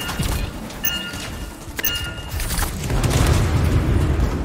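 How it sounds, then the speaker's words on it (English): Explosives detonate in the video game Anthem with a deep booming blast, followed by sharp metallic clinks and a rumbling, crackling aftermath that swells louder toward the end. "Shields down, but I think the explosion destabilized the foundry."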